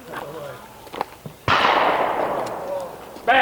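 A single sharp pistol shot cracks at an outdoor steel challenge shooting range, loud and close, its blast tailing off over about two seconds, with a second report at the end and faint talk before it.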